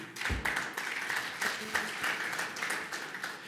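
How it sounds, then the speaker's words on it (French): Audience applause at a panel talk on the digital economy and advanced data processing, a steady wash of clapping from a seated crowd, moderately loud and even throughout. "je vous demande d'applaudir"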